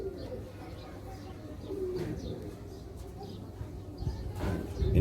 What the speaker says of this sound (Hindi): ये माशाल्लाह जी फिरोजपुरी कबूतर है